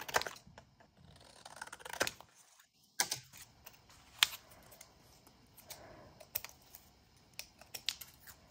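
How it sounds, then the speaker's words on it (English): A typewriter striking a piece of stiff, glossy card, giving a run of sharp, irregular mechanical clicks and clacks close by, with brief pauses between bursts and no talking. "So I'll put this in my typewriter and see if I can type on this."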